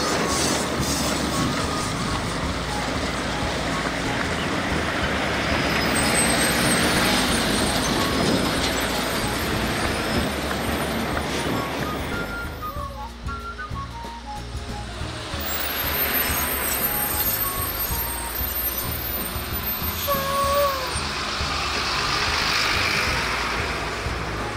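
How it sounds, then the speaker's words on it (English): Heavy trucks grinding down the steep, narrow Mai Mahiu escarpment road in Kenya, with a loud continuous engine and road rumble, hissing air brakes and traffic noise that dips briefly midway before building again. "It's too narrow to accommodate both the wide load and trucks headed in the opposite direction."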